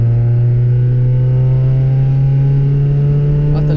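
A car accelerating hard at full throttle out of a corner on a race track during a track day, the loud close engine climbing steadily in pitch through the whole stretch without a gear change.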